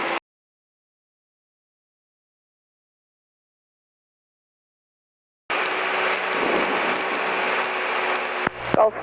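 A light aircraft landing on runway 23 gives a steady, loud engine drone with airflow noise that starts abruptly after several seconds of silence and continues near and unbroken.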